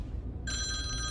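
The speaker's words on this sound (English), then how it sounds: "Phone." A telephone starts ringing in a horror-style video game, a steady electronic trill that cuts in partway through over a low background rumble, no speech.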